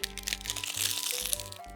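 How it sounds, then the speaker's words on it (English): Dry fallen leaves crunch and crinkle as they are shaken in a basket, a close, brittle rustle in short bursts over faint background music. "Plenty of leaves in my basket make the sound crunch."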